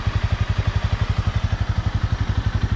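A Honda CB300R motorcycle engine idles close up with a steady, rapid low thumping pulse, running evenly without revving right before being shut off.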